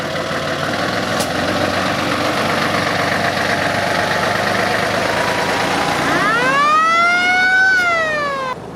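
A TAM 5500 fire truck drives with a steady, fairly loud engine roar throughout, and near the end a siren-like rising and falling wail sweeps in briefly over the engine noise.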